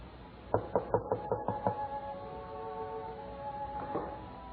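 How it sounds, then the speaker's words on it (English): Knocking at a door in an old radio drama: a run of six sharp raps in quick succession, fairly close, followed by a softer sound later amid quiet background hiss. "Who knocks at this hour?"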